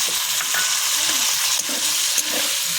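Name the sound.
water added to sizzling cauliflower fish curry in pan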